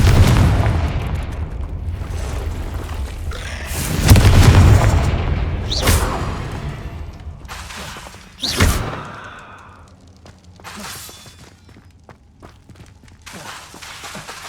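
Confringo explosive spell bursts in the Hogwarts Legacy video game, a loud, deep boom followed by several sharp blasts and crackling impacts that fade between hits.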